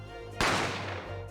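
A single gunshot sound effect in the video game Ace Attorney: one sharp, loud bang that bursts out and decays over about half a second above a low steady background hum.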